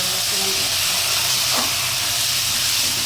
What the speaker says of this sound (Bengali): এগুলোকে নিয়ে কষিয়ে নেব।